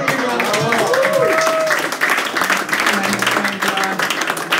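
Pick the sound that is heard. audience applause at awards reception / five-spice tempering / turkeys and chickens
audience applause at awards reception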